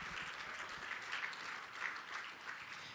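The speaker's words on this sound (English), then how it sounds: "So please, let's just clap for everybody that's here." Audience clapping at a 2018 Visual Snow Syndrome conference, steady and even throughout, heard from a distance and fairly quiet.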